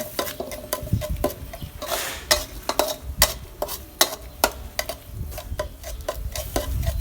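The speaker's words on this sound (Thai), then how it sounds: "แล้วก็ผัดจนข้าวหอมไง แต่ได้ใส่น้ำมัน" Rice stir-fried with oil in a pan, a metal spatula scraping and clanking in quick irregular strokes over a soft sizzle. It is close and heard alone.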